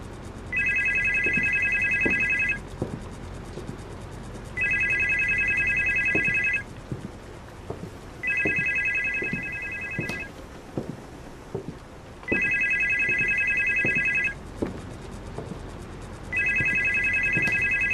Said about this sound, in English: Is that not the phone?